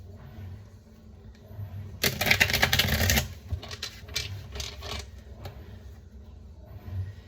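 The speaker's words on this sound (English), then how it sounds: "I'm going to shuffle and then we'll pull a card" A dense burst of rapid tarot card riffling lasts about a second, followed by lighter scattered shuffling clicks, close by with a low background hum.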